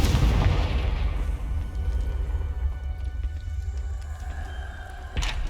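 A Confringo spell explosion in the video game Hogwarts Legacy, opening with a loud booming burst that decays into a long rumbling tail, then a sharp crack near the end, with no talking.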